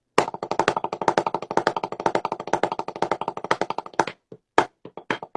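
Drum accent pattern at a fast tempo: rapid, even strokes with louder accented hits in a steady stream, close and crisp, breaking into a few sparse hits at the end.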